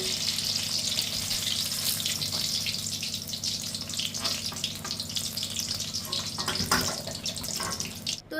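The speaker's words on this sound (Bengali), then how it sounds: "একটু উল্টিয়ে পাল্টিয়ে ভালো করে একটু ভাজতে হবে গ্যাসের ফ্লেমটা মিডিয়ামে রেখেই ভাজতে হবে" Chili pakoras frying in a kadai of oil over a medium gas flame give a steady, dense sizzle and crackle with occasional stirring scrapes, close and continuous with no talk.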